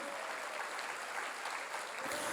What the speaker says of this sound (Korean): 깨달은 사람만 박수 치세요.